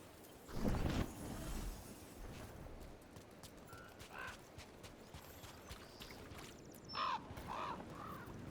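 A crow caws in Dragon Age: The Veilguard, with a few faint, scattered calls over a rumbling game ambience and some soft clatter.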